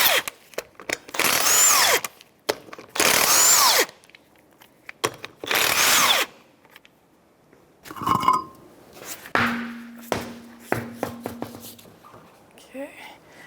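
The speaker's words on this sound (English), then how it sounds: "And now we can remove the lug nuts," Impact wrench zipping 19mm lug nuts off the passenger front wheel of a 2005-2010 Chevrolet Cobalt, three loud sustained whirring bursts close by, followed by clunks and handling noises with brief talk.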